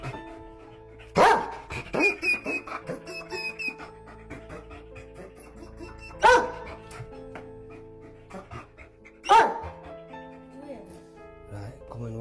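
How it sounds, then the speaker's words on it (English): A dog barks loudly three times at spaced intervals, each bark sharp and close, with quieter music and soft sounds between. "Their dog was barking very loudly."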